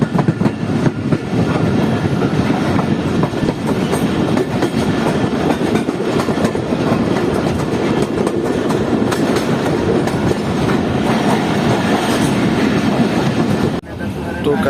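Karakoram Express passenger train running on the rails in cold winter air, a loud continuous rumble with rhythmic wheel clatter heard close from on board, steady throughout before easing slightly at the very end.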